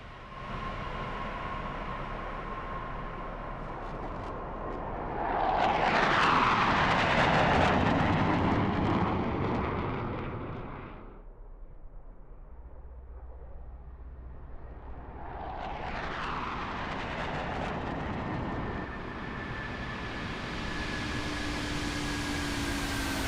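A PMDG airliner in Microsoft Flight Simulator 2024 roars past in a loud jet flyby, swelling to a peak, dropping away, then building again as a second pass approaches.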